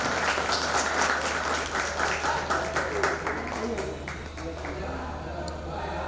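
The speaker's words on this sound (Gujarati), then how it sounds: "આપણે તાળીઓથી સ્વાગત" Audience clapping to welcome guests at a 2024 community get-together, a steady wash of many hands that fades slightly toward the end, with people talking throughout.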